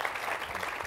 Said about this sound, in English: Gary, a round of applause for Gary, fabulous book.